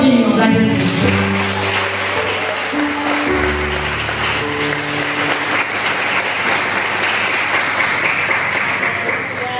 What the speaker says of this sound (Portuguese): Pode aplaudir, irmão, para Jesus.